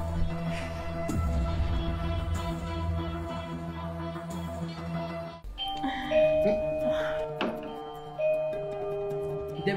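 A doorbell rings with a sustained, tonal electronic chime at a home, its ringing tones standing out over a steady background hum, with a second chime sequence starting partway through.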